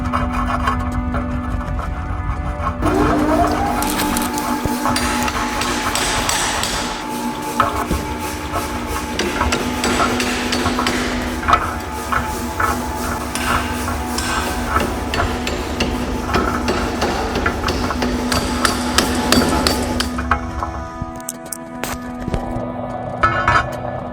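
A blacksmith in a workshop strikes metal on an anvil he has used for decades. The hammer blows ring out in a steady series over a constant hum, and a brief quiet break comes near the end.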